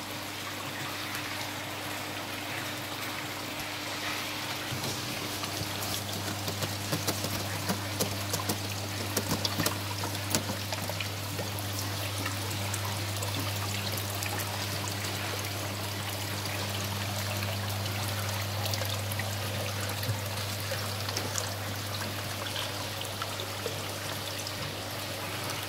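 Dirty pond water gurgles and pours steadily as it is pumped out, a continuous close rushing stream over a low, constant motor hum with no speech.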